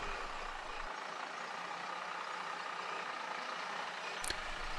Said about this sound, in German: Jetzt sehen wir mal ein größeres Mobil, was hier über den Platz fährt.